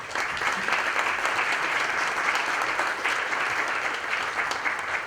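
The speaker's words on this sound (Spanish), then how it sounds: "Lo recibimos con un fuerte aplauso," A conference audience at a nut-crop meeting in Mendoza welcomes a speaker to the stage with strong, sustained applause, a dense, even roar of clapping filling the hall.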